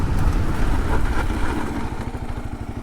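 A 2022 Kawasaki KLR650 ABS motorcycle brakes hard with a loud, close engine rumble. The pitch drops into a rapid, pulsing low throb as the bike slows.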